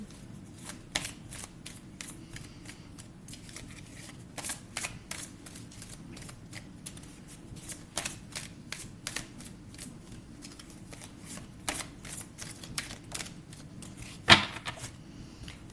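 Tarot cards are shuffled in quick repeated riffles and slides, a steady close crackle of card edges that continues for a long stretch before a sharper snap near the end.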